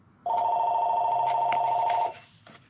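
An indoor telephone rings with one long, steady electronic trill lasting about two seconds, loud and close, then stops, leaving faint room noise.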